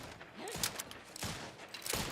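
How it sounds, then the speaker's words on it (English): Gunfire from an action role-playing video game, The Outer Worlds 2, sounds as a few scattered, distant bursts of shots over game ambience, with a faint voice in the mix. "Because they were shooting at each other."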